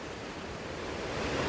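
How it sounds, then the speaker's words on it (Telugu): Loud, continuous rush of a waterfall near Nanded, Maharashtra, roars steadily without pause, a broad hissing wash close by. "చూడండి సౌండ్ చూస్తుండ్రా ఎలా ఉంటుంది వాటర్ చూడండి"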